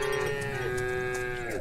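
A single drawn-out cow moo from livestock in the farming game Farm Together, loud and close, sustained with a falling tail at the end, no speech.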